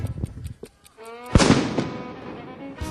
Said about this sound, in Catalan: Us ha agradat als madrileños el tema dels coets.